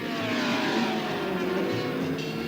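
Race cars at the 1965 Indianapolis 500 roar past at high speed, a continuous, loud engine drone with a slight shift in pitch, dense and unbroken with no pauses.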